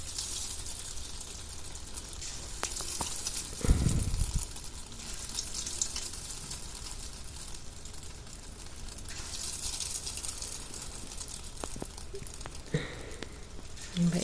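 Potato fritters (bergedel) sizzle in hot oil with a steady broadband frying hiss, joined by occasional louder crackles and a brief thump of something dropping in, while someone talks over it throughout.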